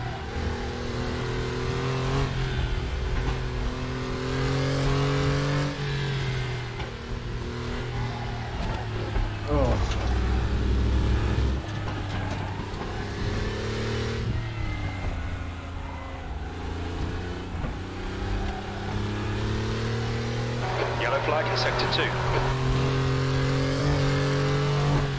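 A Porsche 911 (964) in a sim endurance race at Bilster Berg revs and shifts through the gears, its engine note climbing and dropping repeatedly as a driver talks over it.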